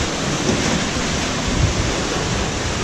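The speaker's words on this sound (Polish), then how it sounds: "Przypływ!" Sea waves of an incoming tide wash steadily along the Pembrokeshire coast, a continuous loud roar of surf with wind buffeting the microphone and no voices.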